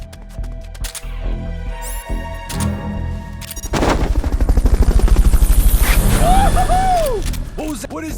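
A helicopter in Metal Gear Solid: Peace Walker on PS3 comes in as a loud, steady rhythmic rotor thumping that swells over several seconds, following quieter game sounds and short electronic tones.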